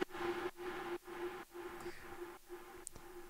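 A dirty, processed synth pluck stab repeats about six times in an even rhythm, each hit gritty and buzzy with a short reverb tail between hits, fairly quiet overall.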